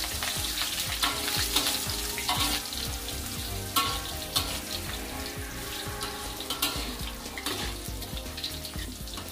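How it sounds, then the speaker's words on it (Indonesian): Chopped galangal frying in a pan for Coto Makassar spice paste, a steady crackling sizzle with scattered pops and stirring clatter, close and continuous with no talk. "setelah itu kita goreng juga lengkuasnya"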